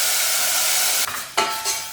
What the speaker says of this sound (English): I give them a good stir until they soften up